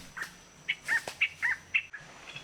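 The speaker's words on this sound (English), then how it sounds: "This jet antbird wasn't giving us the time of day." A jet antbird calls from dense trees along Pipeline Road in Panama: a series of about six short, bright chirped notes in an uneven rhythm, moderately close and clear over a quiet forest background.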